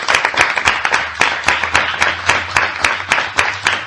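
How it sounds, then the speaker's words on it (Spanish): Church congregation applauding together during a Spanish-language sermon, a run of sharp, rhythmic claps close and loud for several seconds, with a low hum underneath. "Denle un aplauso al Señor."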